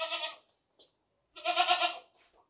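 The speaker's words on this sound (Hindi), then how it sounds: "भागता दौड़ता सेहतमंद बकरा।" A large, heavy castrated two-tooth goat bleating nearby, two loud wavering calls separated by a short pause and a brief soft sound, clear and close with no talk.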